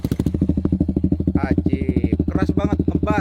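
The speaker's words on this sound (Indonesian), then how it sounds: "Oke, sekarang kita lepas DB killernya." Suzuki GSX motorcycle running on a CLD Monster exhaust with the dB killer taken out, a loud deep steady idle pulse close by, while someone speaks over it.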